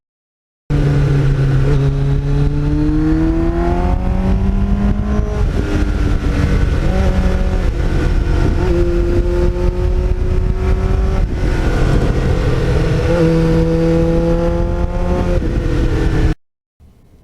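A 1989 Kawasaki GPX750R motorcycle fitted with a Muzzy muffler roars loudly and close, engine pitch sweeping up and down through repeated revs and gear changes for about fifteen seconds before cutting off.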